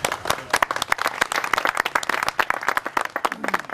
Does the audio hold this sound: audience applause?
yes